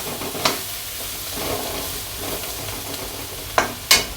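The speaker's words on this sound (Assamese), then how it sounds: "আৰু অকণমান সময়, প্ৰায় 2 মিনিটমান সময় লাগিব এইখিনি ভজা হওঁতে" Mixed vegetables for fried rice sizzling in a hot pan, a constant frying hiss broken by several sharp scraping stirs, the last two near the end, with no talking.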